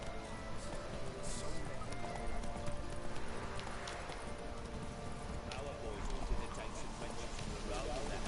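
Hooves of Roach, a horse in the video game Witcher 3, clop in a fast galloping rhythm with an occasional whinny, steady and close, while someone speaks over it.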